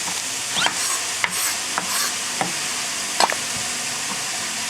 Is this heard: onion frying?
yes